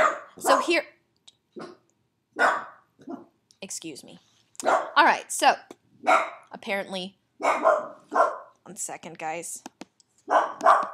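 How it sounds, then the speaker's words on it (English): A dog barks at the mailman in short, intermittent bursts mixed in with a person talking, who pauses and excuses himself between phrases. "Apparently the mailman's here, so if you hear barking, ignore that."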